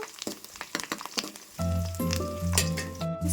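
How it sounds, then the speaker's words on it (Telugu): Onions with curry leaves frying in oil, first as scattered crackles and stirring clatter, then a denser steady sizzle with metallic scraping taps, close and moderately quiet. "ఆనియన్స్ అయితే ఫ్రై అయిపోతున్నాయి ఫ్రెండ్స్ ఈ విధంగా ఫ్రై చేయాలి"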